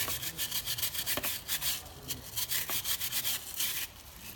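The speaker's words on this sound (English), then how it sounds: "give it a right good scrub." Brisk back-and-forth brushing strokes scrub a motorcycle chain steadily and rhythmically, close and moderately loud, with no talking.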